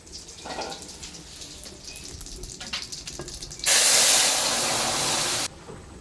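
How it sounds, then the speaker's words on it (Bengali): Curry poured into hot oil after frying cumin, bay leaf and chilli, while cooking taro stems with singi fish: quiet kitchen clatter, then a sudden loud, steady hiss of sizzling that holds for about two seconds and stops abruptly. "এখন আমি তরকারিটা ভাজা তেলের ভিতরে ঢেলে দেবো।"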